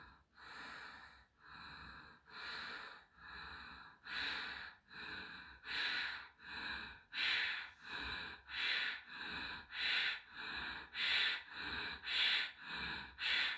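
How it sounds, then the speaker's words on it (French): Slow, even breathing in and out through the nose during a relaxation exercise, close and fairly faint, each audible inhale and exhale of roughly equal length repeating in a steady rhythm with no talking. "Sentez que votre inspire et votre expiration sont d'égale longueur et que c'est volontaire à l'inspire et à l'expire."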